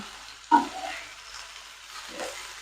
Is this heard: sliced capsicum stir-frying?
yes